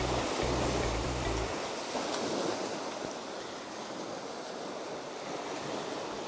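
Ocean waves wash onto a small beach at Steep Point in a continuous, broad surf roar with some wind buffeting the microphone and no voices.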